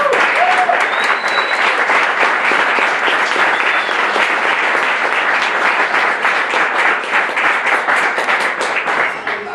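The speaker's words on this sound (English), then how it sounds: "One more round of applause for all of our" Loud, sustained applause from an audience at a peace and justice awards ceremony honoring recipients, a thick continuous roar of clapping that holds steady and tapers slightly at the end.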